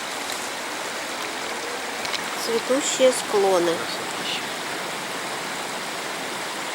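A mountain river rushing along steadily in a broad, continuous wash of water, with someone speaking briefly over it partway through.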